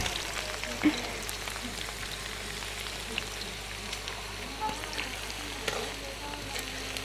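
Chopped shallots deep frying in a generous amount of oil, a dense, steady hiss and crackle that holds level throughout, close by, with a few faint clinks and no clear talking.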